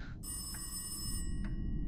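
A telephone ringing in the horror video game Locked Up: two bright electronic ring bursts, the first long and the second shorter, over a low rumbling game ambience with no talk.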